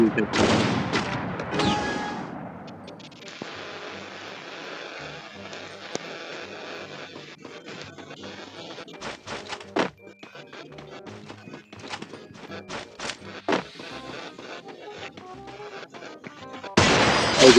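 Sniper rifle shots in the Free Fire video game ring out as sharp, separate cracks spread across the stretch, mixed with other in-game noises and effects, with no talk over them.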